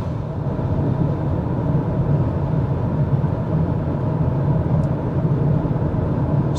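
Steady low road and engine drone fills the cabin of a second-generation Mazda CX-5 cruising at 120 km/h in sixth gear, a constant broadband rumble with no talking.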